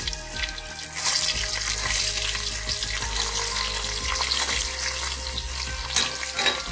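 Garlic sizzles steadily in hot oil over a medium flame with bay leaves, whole red chilies, black peppercorns and whole cloves, a continuous close crackle with some stirring and no talking.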